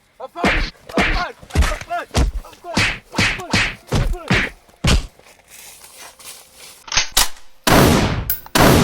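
Voices talk for several seconds, then a few loud, sharp gunshot-like bangs burst out close by, the last one longer and ringing.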